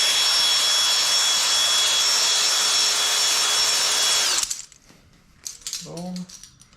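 A cylinder hone spun by a drill scours the cylinder walls of a nitrous J32 stroker engine, missing one pad, giving a loud steady whine for about four seconds before cutting off, followed by faint clinks and brief movement noise.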